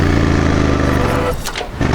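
A motorcycle engine revs loudly during a learner's rev-matching downshift, a steady rumble that breaks into uneven blips and dips near the end.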